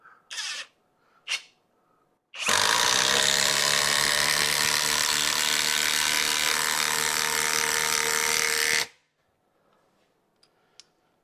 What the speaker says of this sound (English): let's drive a 5-inch 3/8 lag